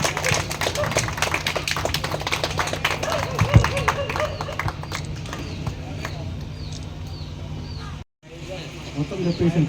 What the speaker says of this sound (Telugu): చప్పట్లు చప్పట్లు ప్లీజ్ క్లాప్.